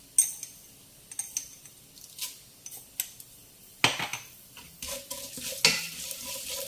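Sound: fenugreek seeds added to pan while cooking mango pickle

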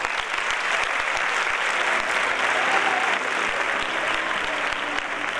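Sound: audience applause

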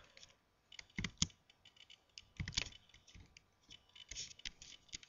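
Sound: typing on a computer keyboard

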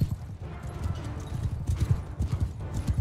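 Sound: horses galloping, hoof clip-clop in Mount & Blade 2 Bannerlord video game

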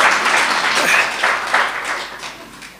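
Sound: audience clapping hands

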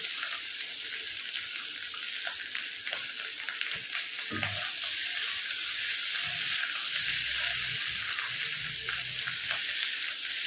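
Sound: potatoes frying and sizzling in a pan

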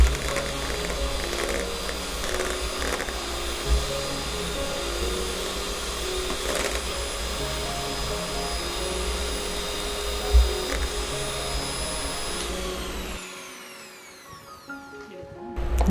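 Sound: electric beater mixing chocolate ice cream mixture

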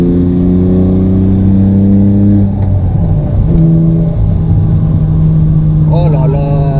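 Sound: BMW E36 car engine while driving and downshifting

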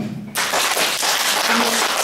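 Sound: applause for a child's magic trick

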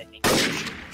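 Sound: gunshots in Garry's Mod (video game)

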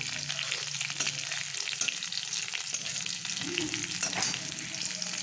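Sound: garlic frying in a pan

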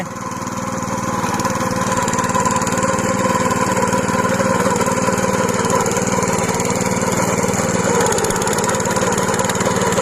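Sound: autopilot rotary tiller working through overgrown grass

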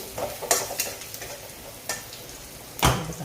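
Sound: mustard seeds, cumin and turmeric sizzling in hot oil

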